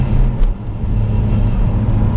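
A 2.3-litre engine in a 2010 Mazda MPS with no exhaust system idles with a deep, steady low rumble and hum, close by and continuous, with no talking.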